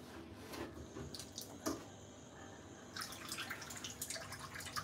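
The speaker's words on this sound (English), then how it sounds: "I have to rinse my hand a little bit because of the maggi there." A kitchen tap runs while hands are rinsed during okra soup cooking, with faint, uneven splashing and drips that pick up into a steadier gush toward the end.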